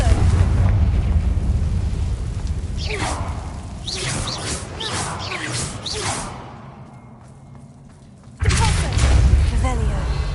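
A Confringo blasting spell going off in the Hogwarts Legacy game: loud bursts and whooshing explosive blasts over a low rumble, trailing into a quieter lull before another heavy blast, with a character speaking in between.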